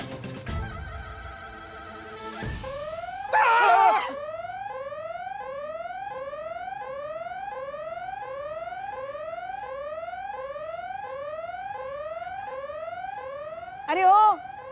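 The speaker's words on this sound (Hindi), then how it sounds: "ये हमारा फोन का अलार्म बजा। रोज दवाई लेने के लिए लगाना पड़ता है ना।" A phone alarm set as a daily medicine reminder rings out in a repeating pattern of rising electronic sweeps, steady and loud for most of the stretch, with a couple of sharp louder bursts and some low rumble at the start.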